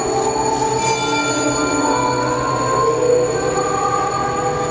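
A light rail train passes steadily nearby in Baclaran, Manila, a low continuous roar with metallic ringing overtones and a faint bell-like chime throughout.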